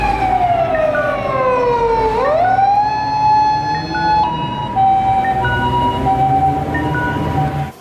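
A loud fire truck siren sweeps downward, then holds a steady wailing tone with repeating pitch shifts, close and continuous.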